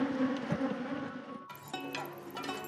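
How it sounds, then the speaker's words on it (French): Aggressive honeybees swarm around hives at a shea honey site in Benin, a close, steady buzzing hum with wingbeat whines rising and falling as insects pass near, joined partway by a sharper second layer of buzzing. "Ici, les abeilles sont particulièrement agressives."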